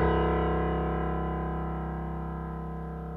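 The lowest note of a sampled acoustic piano in SampleTank rings out as a single deep tone, starting loud and slowly fading as it sustains.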